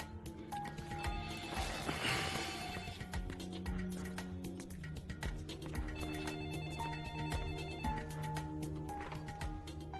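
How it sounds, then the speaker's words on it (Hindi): A telephone rings repeatedly in a tense scene as police gather, its bell tones steady and moderately loud over a busy background with faint movement sounds. "फोन तो उठाओ।"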